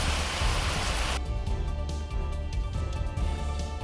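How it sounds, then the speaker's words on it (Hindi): Heavy rain in Ramban, Jammu and Kashmir: a loud, dense hiss of downpour fills the first second, then drops to a softer steady patter with faint tones underneath. No voices are heard. "तेज बारिश की वजह से इलाके में हर तरफ पानी ही पानी नजर आया।"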